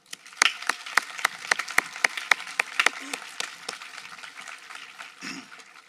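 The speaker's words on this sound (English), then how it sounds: "I want everybody to give their parents, guardians, brothers and sisters a round of applause one more time." A graduation audience applauds family members, though only a sparse few hands clap here: distinct, sharp claps in an uneven rhythm that thin out toward the end.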